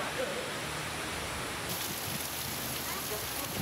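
Heavy rain with hail pelts down during a storm in Indonesia, a steady dense hiss of downpour that fills the whole clip without pause, near and even in level.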